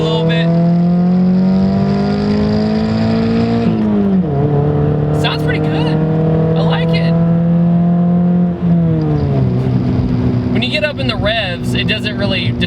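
A Pontiac Solstice roadster engine drones loudly from inside the car while driving, holding steady revs and then shifting pitch twice as it changes gear, with a person talking over it throughout.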